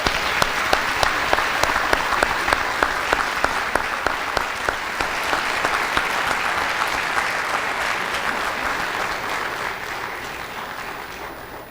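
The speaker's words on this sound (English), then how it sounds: "Let's have a round of applause for our honor roll list." Audience at a high school senior honors ceremony applauding the honor roll list: steady, dense clapping from a full crowd, sustained for about twelve seconds before tapering slightly at the end.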